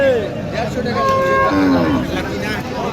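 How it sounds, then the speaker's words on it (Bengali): Young heifer calves mooing close by at a cattle market, several drawn-out bleating lows overlapping one after another against a noisy background. "সবগুলোই কিন্তু বকনা বাচ্চা গরু"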